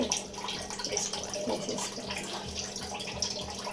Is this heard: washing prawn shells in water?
yes